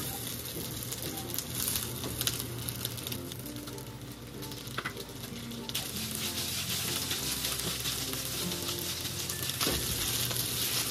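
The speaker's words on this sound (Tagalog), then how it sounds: "ngayon maglagay tayo ng mantika" Oil heats and sizzles in a pan with browning pork belly while cooking pancit, a continuous crackling hiss that grows louder and denser partway through, punctuated by occasional clinks and stirring, close and without voices.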